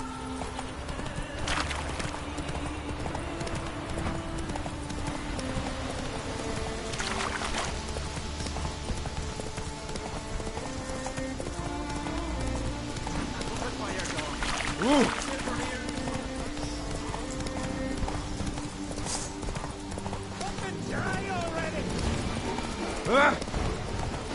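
Roach the horse galloping in The Witcher 3, hooves clip-clopping steadily beneath game music and a talking player, with a brief whinny near the end.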